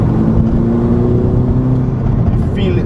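VW Golf GTI Mk5 with a boost leak, accelerating hard in third gear from 3000 RPM: a loud, steady engine drone from inside the cabin, holding strong throughout with a faint whine above it.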